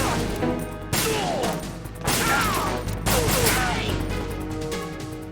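Sharp gunshots crack in Metal Gear Solid 2, with three distinct bursts about a second apart over a steady game score and ambience.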